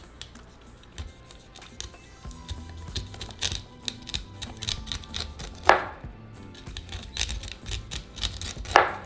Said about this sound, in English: So now I'm just going to remove it from the cob.